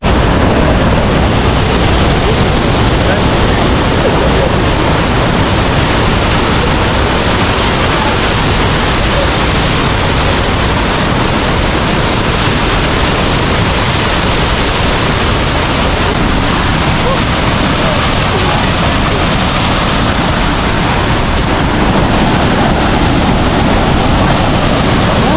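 Elephant Waterfall in Da Lat, Vietnam pours with a loud, steady roaring rush that stays constant and close for the whole stretch, with no voices.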